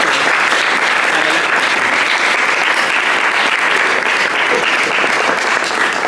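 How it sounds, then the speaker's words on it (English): An audience at a course certificate presentation gives tutors a full, continuous round of applause, steady and close throughout with no break. "So a big round of applause for our tutors."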